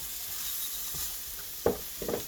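Zucchini cutlets cooking in a frying pan with garlic, a steady close sizzle running throughout, with a couple of brief louder stirring or scraping sounds near the end.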